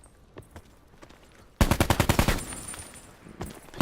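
Rapid burst of automatic gunfire in the video game Call of Duty Black Ops 4 Blackout, preceded by faint distant shots and ending with a few more shots, loud and close.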